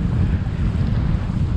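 Extreme wind buffets a camera attached to a kite, a loud continuous roar of gusts battering the microphone with no pauses.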